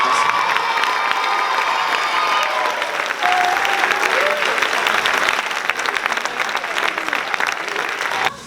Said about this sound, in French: on va applaudir nos 2 chauffeurs qui nous ont transportés jusqu'ici